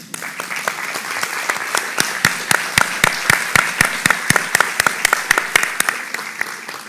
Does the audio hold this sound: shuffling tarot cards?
no